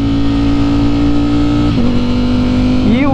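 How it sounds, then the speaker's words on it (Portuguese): A Ducati Streetfighter V4 S motorcycle with a loud full titanium Akrapovic exhaust holds a steady, loud, close engine drone with strong harmonics, then briefly dips and rises in pitch as the throttle changes. "a moto está com um escapamento muito alto"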